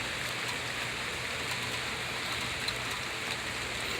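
Steady rain falling in Fresno, California, a soft continuous hiss with no breaks, heard alone at moderate level.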